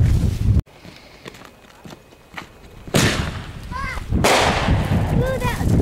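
Fireworks burst in loud, sharp booms, three big blasts followed by long crackling, sizzling sparkle as the fire falls, with faint ambient noise between.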